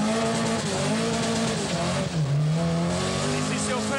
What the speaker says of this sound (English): I've never been in a rally car in rough road. It's a bit more noisy.